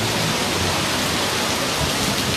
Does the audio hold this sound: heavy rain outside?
yes